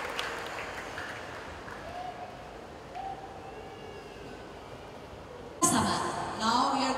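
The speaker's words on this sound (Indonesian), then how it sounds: "Boleh kita berikan aplaus sekali lagi." Audience applause breaks out in a stadium crowd at a Christian revival and healing gathering in Papua, a sudden broad wash of clapping that starts late and holds to the end after quieter ambient sound.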